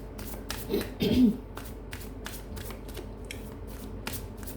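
Oracle cards are shuffled by hand with quick papery riffles and light ticking flicks, close and moderately loud, with a brief murmur of a voice early on.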